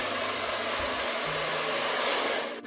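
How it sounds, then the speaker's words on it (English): A hair dryer blows steadily at full power, a loud continuous whooshing roar that holds for the whole stretch before cutting off. "hairdryer, full blast"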